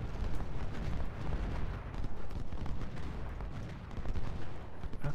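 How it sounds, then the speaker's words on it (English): Cannon fire in the Civil War strategy game Ultimate General: Civil War, a dense, continuous rumble of booming artillery and gunfire with no clear gaps between shots. "Our cannon's firing."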